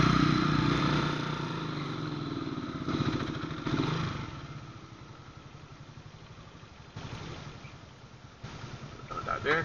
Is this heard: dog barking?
no